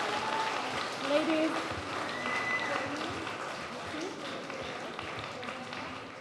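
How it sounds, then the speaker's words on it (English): A small audience at an America Day event claps softly as several young women are called forward, a low, even patter of applause with talk over it. "Applause,"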